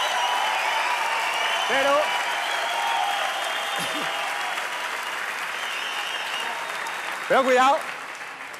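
Audience applause at a Spanish comedy club stand-up set, a steady broadband crowd clapping sustained throughout, with a comedian's voice talking over it in short bursts.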